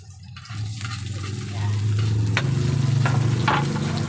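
Garlic and onion going into hot oil with a little pork, sizzling and frying close by; the sizzle swells louder partway through, with stirring scrapes on top.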